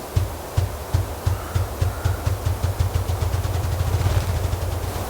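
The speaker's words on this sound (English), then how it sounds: "he's actually making little mini sonic booms when he's flapping his wings, and it makes this very deep resonant" A male grouse drums by beating its wings, making a deep, resonant, low thumping that starts as slow separate beats and speeds into a rapid rolling flutter, close and clear against quiet woodland in Superior National Forest, Minnesota.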